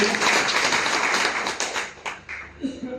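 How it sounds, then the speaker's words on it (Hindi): A crowd at a motivational business class applauds a company founder, a full burst of many hands clapping that is loud at first, then thins and fades toward the end as a voice begins to come through. "प्लीज उनके लिए जोरदार ताली"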